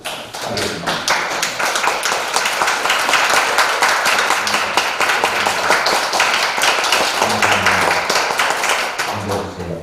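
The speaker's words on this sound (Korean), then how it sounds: "우리 한번 박수 하겠습니다." A church congregation applauds its teachers during a Sunday worship service, a dense, steady wash of many hands clapping throughout, loud and continuous, with a bit of talk murmured underneath.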